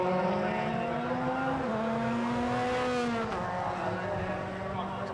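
Euro Formula Open race cars peel into the pit lane at Monza during qualifying, several engines droning and shifting pitch together at steady loudness, with commentary voices over the top.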